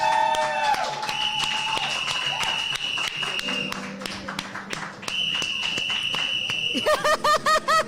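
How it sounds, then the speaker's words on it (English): A crowd applauds Gabby at a living gallery event, scattered claps and cheers continuing under sustained musical tones and whistle-like notes, with a burst of voices near the end. "Please, can we give Gabby another round of applause?"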